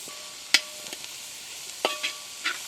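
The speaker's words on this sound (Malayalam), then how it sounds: "കുറച്ച് കറിവേപ്പില ഇതിട്ടിട്ട് നന്നായിട്ടൊന്ന് ഇളക്കി കൊടുക്കണം." Curry leaves stirred in a hot pan while preparing Chettinad chicken curry, with a few sharp spoon scrapes and short bursts of sizzle over a quiet background and no voices.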